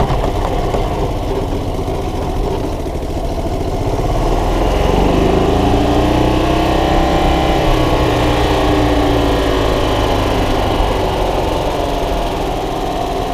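A Club Car golf cart's small gasoline engine runs wide open with its governor bypassed, a loud, steady, buzzing drone close by that rises a little in pitch and holds, with no talking.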